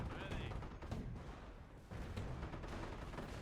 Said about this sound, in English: perfect mortar hit